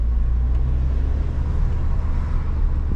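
A Suzuki Swift Sport engine drones steadily with a deep, even rumble from inside the moving car, loud and constant with no voices over it.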